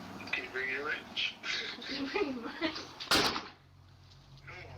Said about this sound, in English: Door just closed. Is that the slam sound?